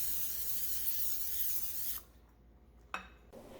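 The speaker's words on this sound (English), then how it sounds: "Now I did go ahead and grease my baking dish." A baking dish is greased with cooking spray in a home kitchen, giving a steady close hiss for about two seconds, then a short second spritz after a pause.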